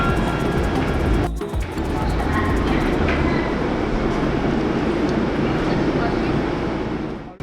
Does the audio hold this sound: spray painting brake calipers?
no